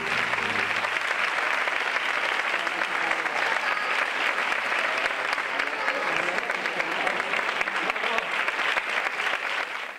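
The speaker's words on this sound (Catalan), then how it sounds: "Demanem un fort aplaudiment per a ells." Sustained applause from a crowd at a Moros i Cristians festival event in Calp, loud, dense and steady for the whole stretch before tapering slightly at the end.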